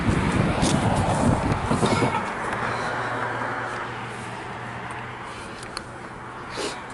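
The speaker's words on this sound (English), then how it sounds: "Yeah, guys, it's a train coming." A CN local freight train approaches in Richmond, Michigan, a low steady rumble building from a distance, with a brief voice at the start and faint ambient noise throughout.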